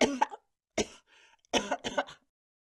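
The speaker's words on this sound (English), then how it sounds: "That's a nasty cough. You should have that looked at." Several harsh coughs from a nearby person, a burst at the start, a lone one, then two close together, with quiet gaps between.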